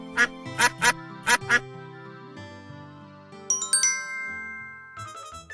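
In an animated children's story about an ugly duckling, a duck gives four short nasal quacks in quick succession, followed by bright tinkling chime and jingle effects.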